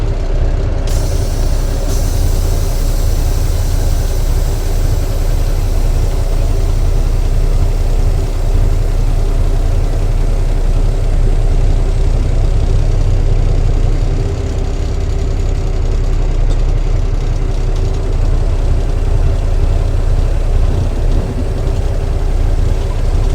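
Semi tractor-trailer truck engine idling: a steady, loud diesel rumble held close throughout, with a brief hiss of air near the start and no talking.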